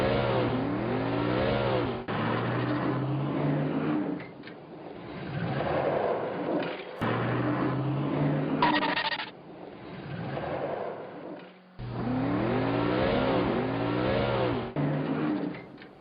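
A car engine revs up as it accelerates, drops away, then builds again in repeated cycles, a steady mid-pitched drone with a few abrupt cut-offs between surges.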